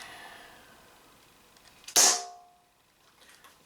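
A single sharp crack from a TT 33 6mm CO2 gas-blowback airsoft pistol, its barrel snapping back against the valve, loud and close, ringing briefly before quiet.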